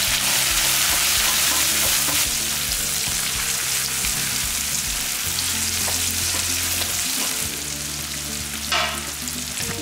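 Onions sautéing in a pan with salt and a pinch of turmeric for a wedding-style vatha kuzhambu, a steady loud sizzle with occasional stirring scrapes throughout, no talking.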